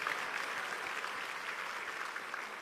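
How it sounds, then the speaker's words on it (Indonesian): An audience at an Easter thanksgiving seminar gives a brief, steady round of applause, a dense even patter of many hands from start to finish. "Tepuk tangan untuk istri-istri tidak sempurna ini"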